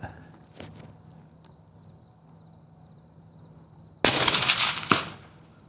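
A single loud rifle shot fired at a honeydew melon target 240 yards away cracks out abruptly after a quiet stretch of insect chirping, followed by a brief second impact-like burst.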